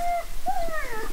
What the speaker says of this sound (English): This moment when you start dressing the dogs and they start getting a little bit stressed.